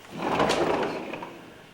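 A shop door opens with a single soft scraping slide lasting about a second, close by and fairly quiet, in a building after Hurricane Katrina.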